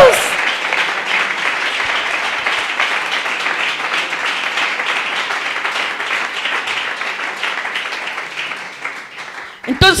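Applause from a church congregation, a dense steady wash of many hands clapping that fills the room and continues unbroken for about ten seconds, with voices mixed into the crowd noise.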